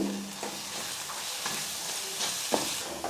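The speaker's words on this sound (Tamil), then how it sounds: "ஒரு 2 நிமிஷத்துக்கு இந்த மசாலா வதக்கிக்கலாம் எண்ணெயிலே" Masala sautés in oil with salt added, a soft continuous sizzle with a few light scraping stirs of a spoon against the pan, quiet and close, no voices.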